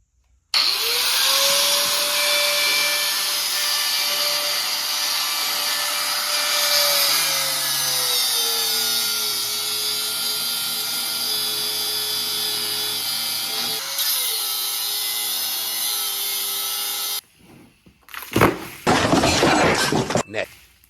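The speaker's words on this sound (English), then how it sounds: "There's a couple bolts down here I got to cut off." Power cutting tool slicing through mud flap bolts under a Ford F-100 pickup, a loud sustained whine with shifting pitch for about seventeen seconds, then a short pause and a burst of harsh broadband grinding.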